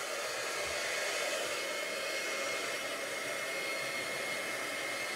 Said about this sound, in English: I'm going to pull out my heat gun